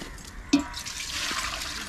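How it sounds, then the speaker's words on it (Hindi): Hot water is poured over black Kadaknath chicken pieces being cleaned before cooking, a sudden splash followed by a steady running pour that continues to the end. "डालिए पानी, डालिए"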